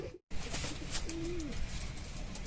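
A Kalshira giribaz pigeon gives a soft, rolling coo at close range in a loft, one short call that sits over a steady noisy background.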